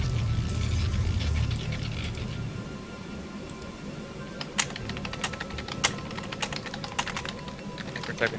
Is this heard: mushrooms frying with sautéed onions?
no